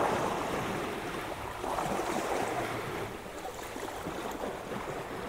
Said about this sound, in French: Il y a des vagues là.